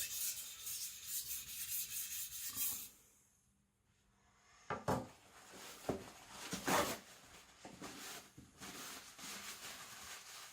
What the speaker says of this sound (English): I'm trying to use the most of the stone, using all the stone, that way it keeps flatter.